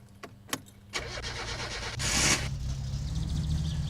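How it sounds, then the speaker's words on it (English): A car engine in the My Summer Car driving game cranks over after a few sharp clicks, then catches and roars up to a loud rev before settling into a steady, rumbling idle. "So let's start up the car."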